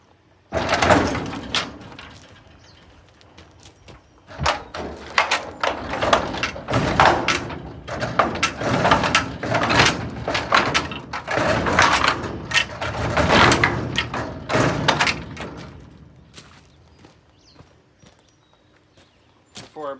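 Repeated metal banging on the cut hinge of a dump trailer gate, a dense run of sharp clanging hits with short pauses, loud and close, fading to quiet near the end.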